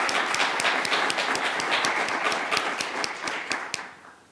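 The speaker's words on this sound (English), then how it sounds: "Can we give them a round of applause, please?" An audience at a literary event on Indigenous literatures applauds in dense, sustained clapping that starts loud and gradually thins out over four seconds.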